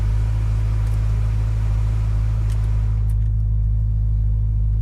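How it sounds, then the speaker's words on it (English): A supercharged 2011 BMW M3 engine idles steadily just after a push-button start, a constant low rumble with a faint whine, close and continuous with no talking. "Push button start. Starts right up, no issues."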